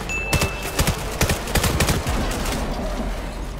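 Rapid gunfire in the VR shooter VAIL VR crackles as a string of sharp, closely spaced shots, with several bursts firing in quick succession before trailing into fainter scattered pops.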